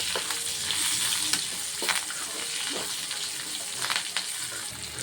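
Coriander and curry leaves sizzle in hot oil with shallots for a tamarind chutney, a steady close frying hiss broken by several sharp stirring scrapes, with no talk.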